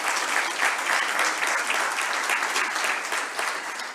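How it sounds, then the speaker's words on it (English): Sustained audience applause fills a lecture hall at a public education event, dense steady clapping at close range that holds for several seconds before starting to thin toward the end, with no talking over it. "another round of applause."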